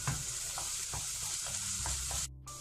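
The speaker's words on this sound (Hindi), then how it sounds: "अब इसे मैं फ्राई कर लेती हूँ।" Onion with ginger garlic paste fries in a pan for pav bhaji, giving a continuous close sizzle broken by the soft scrape of stirring, until the sound cuts off abruptly near the end.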